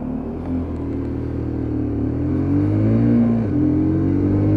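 Lexmoto LXS Euro 5 motorcycle engine under way, a steady low droning hum that swells gradually and slightly rises in pitch as the bike gains speed, close and continuous with no voices.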